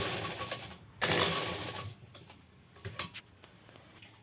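A sewing machine runs straight stitches along trousers in short, close bursts of rapid mechanical whirring, separated by brief pauses and light handling clicks.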